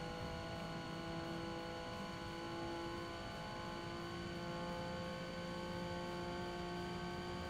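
A Honda NSX race car in the Forza Motorsport video game held flat out at full throttle, giving a steady, unchanging engine drone with sustained tonal whine, faint and even throughout with no speech.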